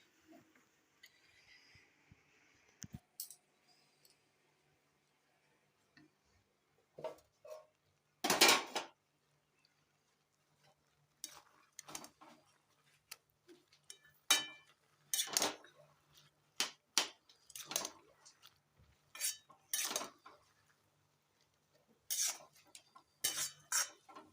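A spoon clanks and scrapes against a metal cooking pot as food is stirred, in short separate bursts of clatter with quiet gaps between them.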